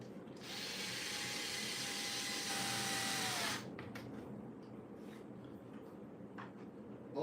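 A power tool drives screws back into a device during a repair, one steady whirring run of about three seconds, then stopping, followed by faint clicks and handling noise.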